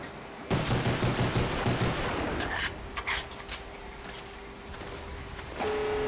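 A pistol fires at zombies in the Call of Duty Zombies video game, a quick run of close, sharp shots followed by a few more spaced cracks over a dull game background.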